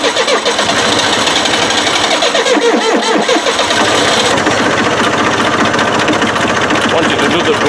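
An engine cranks on a cold winter start with a dash of ether, a loud, rapid rhythmic churning that runs continuously and close throughout.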